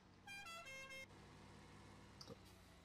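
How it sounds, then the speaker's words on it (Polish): A vehicle in Farming Simulator 2017 sounds its musical horn in two quick bursts of a few notes each, over a low steady engine hum that carries on after the horn stops. "Jaki ładny klakson ma, nie?"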